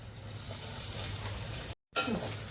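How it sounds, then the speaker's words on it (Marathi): Masala-coated rice with asafoetida sizzling and frying in hot oil for prawn khichdi, a steady close crackle that drops out briefly, then resumes as the rice is stirred. "आता आपण तेलामध्ये हिंग घालूया आणि हिंगावरती आपण हा मसाला लावलेला तांदूळ घालूया."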